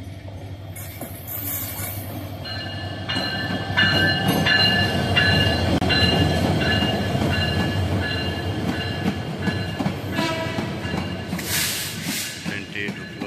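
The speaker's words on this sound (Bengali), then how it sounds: "ট্রেনটি ঢুকলো চট্টগ্রাম স্টেশনে" The Paryatak Express passenger train rolls slowly into Chittagong railway station, a loud close rumble of wheels and carriages with metallic squeals and hissing brakes, steady throughout.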